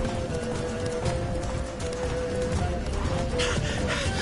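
The horse Roach gallops in a video game, hooves pounding in a fast, steady clip-clop rhythm, close and continuous over an ambient game soundscape.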